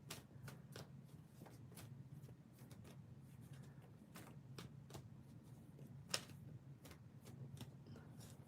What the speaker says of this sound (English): give me one moment to shuffle the cards for Alta.